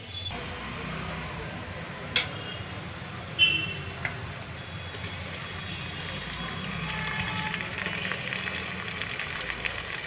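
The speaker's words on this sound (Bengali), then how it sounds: "এবার আমি তেলের মধ্যে ম্যারিনেট করা চিকেনটা দিয়ে কষতে থাকবো" Marinated chicken frying in oil in a pan after onions, giving a soft, steady sizzle throughout, with a couple of sharp utensil clinks.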